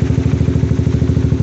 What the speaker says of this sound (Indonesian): ini motor udah hidup di putaran 1500-an kisaran nih Mas Bro